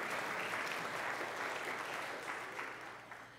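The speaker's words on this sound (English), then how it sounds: "Let's give Pastor Bill a round of applause." A church congregation applauds Pastor Bill during a sermon, a dense wash of clapping heard at a moderate distance that slowly fades toward the end.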